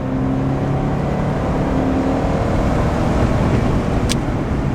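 Car fitted with a CSG Touring86 aftermarket exhaust, heard from inside while cruising: a steady, mellow engine drone blended with constant wind and road noise, with no talking.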